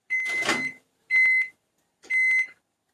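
Three loud electronic beeps from a microwave timer signal the end of a cooking cycle for grilled chicken and asparagus in a Tupperware Micro Pro Grill. The tones sound alone, each long, with silences between them.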